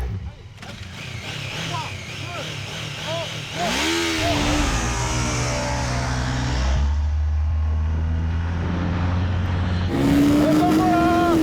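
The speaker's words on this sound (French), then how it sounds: "n'importe qui peut accélérer à fond à son guidon" A Yamaha TMAX maxi-scooter is ridden at full throttle. The engine's pitch sweeps upward in surges as it accelerates, and a louder rising whine comes near the end. A voice talks over parts of it.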